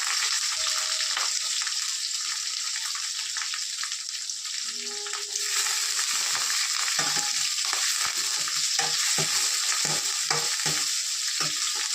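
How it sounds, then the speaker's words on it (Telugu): Onions, tomatoes and curry leaves fry in a hot pan, giving a constant bright sizzle broken by stirring scrapes and taps that grow more frequent in the second half. "తర్వాత కొద్దిగా ఉల్లిపాయలు, టమాటాలు వేస్తున్నాను. ఇది దూరగా బాగా వేగాలి."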